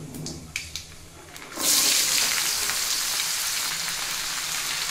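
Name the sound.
vegetables added to frying spices in a pan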